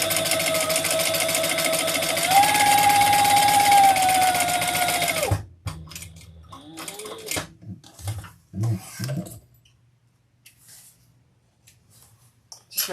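A sewing machine runs in one steady, loud stretch while stitching a crossbody bag, then stops; afterward only scattered handling clicks, fabric rustles and quiet thumps follow, with no talk.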